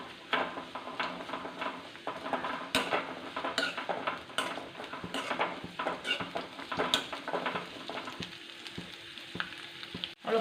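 Bitter gourd sautéing with salt in a pan, a steady sizzle broken by scraping stirs and occasional clinks of a utensil on the pan, close and fairly loud throughout.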